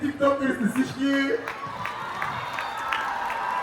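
An audience at a live Coca-Cola tour concert bursts into applause and cheering that fills the second half, after a voice calls out briefly at the start.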